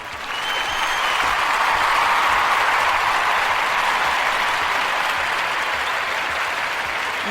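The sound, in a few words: audience applause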